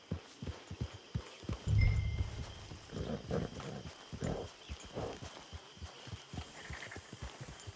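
A horse in the video game Red Dead Online moves with soft clip-clop hoof beats and snorting, mid-distance and irregular, heard over faint ambient game sound.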